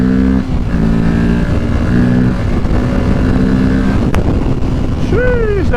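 A 2023 Kawasaki Ninja 650 motorcycle engine drones steadily while riding, loud and close with strong wind rush, then a rising rev near the end.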